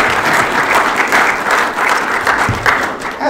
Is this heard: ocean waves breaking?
no